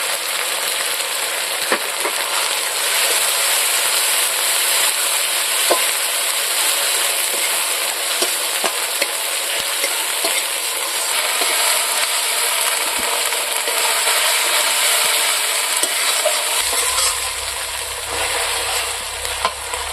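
Ground cumin, dried red chilli, ginger and garlic pastes fry for rohu fish kalia, a loud, constant sizzling hiss with faint occasional stirring ticks throughout.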